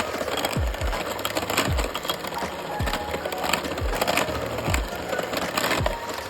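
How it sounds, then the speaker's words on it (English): Sour cream blueberry coffee cake batter being mixed, with repeated soft scraping and thudding strokes against a bowl in a steady rhythm, close up and moderately loud with no talking. "let's mix this just a little bit."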